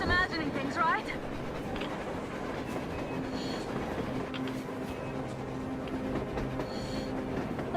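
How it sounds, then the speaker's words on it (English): Train rumbling and clattering along surface tracks in the video game Metro Exodus, a steady loud rolling roar with rhythmic wheel clacks, heard under overlapping voices. "A train! A damn train on the surface!"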